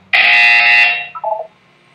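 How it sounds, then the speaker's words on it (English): A loud, harsh electronic buzzer in the video game Portal 2 blares for about a second, then a short, softer falling tone follows before silence. "You will hear a buzzer. When you hear the buzzer, look up at the ceiling."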